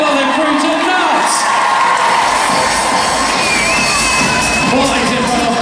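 Crowd cheering and shouting at a Scurry Championship horse show, a loud sustained roar of many voices with children's shrieks and whoops rising throughout, steady from start to finish.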